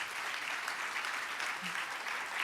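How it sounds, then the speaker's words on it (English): Conference audience applause, a steady wash of many hands clapping at moderate distance throughout, fairly soft and even in level. "And last round of applause for all of you."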